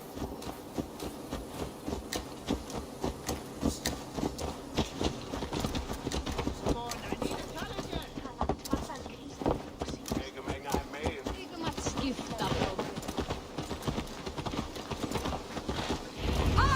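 Horse hooves clip-clopping in Assassin's Creed Valhalla, a steady rhythmic run of hoofbeats at moderate volume, with speech over parts of it.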